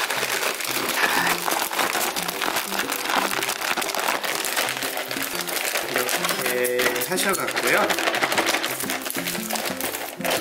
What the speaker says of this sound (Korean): 이렇게 비닐백을 이용해 가지고